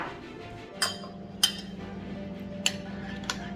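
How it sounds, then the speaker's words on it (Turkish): A metal spoon clinks sharply against a glass bowl a few times at irregular intervals while melted edible-fabric ingredients are stirred, each tap bright and close over a quiet hum. "Kaşıkla karıştıralım."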